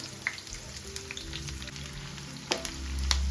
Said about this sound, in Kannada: ಆನಿಯನ್ ಸ್ವಲ್ಪ ಬ್ರೌನಿಶ್ ಬರೋವರೆಗೂ ಲೈಟಾಗಿ ಫ್ರೈ ಮಾಡ್ಕೊತಾ ಇರಬೇಕು.